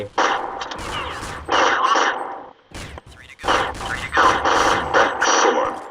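Rapid bursts of gunfire from a weapon in the video game Counter-Strike Online, loud and close, firing in several sustained volleys separated by short pauses.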